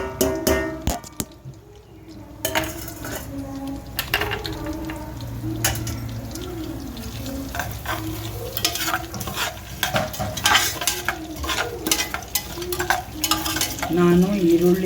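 Dry whole spices fry and sizzle steadily in melted butter for a vegetable pulao, with a utensil stirring and scraping against the pan throughout and a few sharp clinks, close and continuous.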